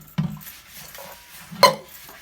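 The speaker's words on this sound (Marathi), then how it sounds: "सकाळी उठून रोज भांडी घसते" Dishes and pots being scrubbed and handled during household washing up, with a couple of sharp clanks of metal utensils and soft scraping between them, close by and without speech.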